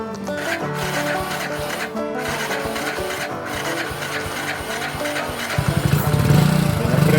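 An Eco Delux motorcycle's engine is started, with rattling mechanical cranking that builds to a louder, rougher running note near the end, close and without talk.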